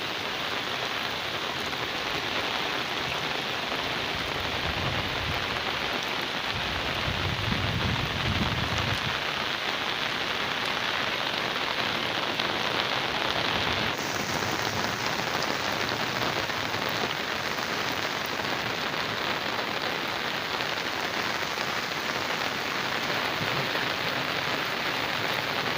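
Steady, dense rain pours down continuously on a hot day where buffalo and goats sit out in the downpour, a loud even hiss throughout with a brief low rumble around the middle.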